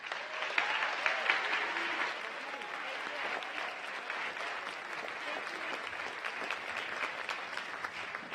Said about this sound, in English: Please give a round of applause for Dee Barragan.